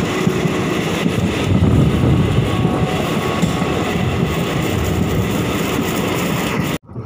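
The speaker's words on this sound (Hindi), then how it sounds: "और अब यहां से स्पीड पकड़ती हुई ट्रेन" A train on an inaugural special run near Mailani, Lakhimpur, India, roars loudly and steadily along the tracks as it picks up speed, its rumble swelling slightly before cutting off abruptly at the end.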